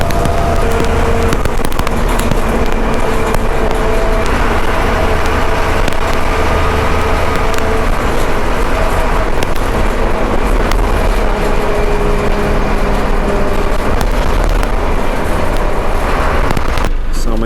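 A KSRTC bus cruises along a straight, bend-free road at a governed top speed of about 80, giving a steady, unbroken roar of engine and road noise throughout with no distinct events.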